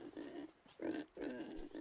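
Pigs grunting and oinking on an island farm in the game Summer in Mara, several short snorting calls in quick succession, close and moderately loud.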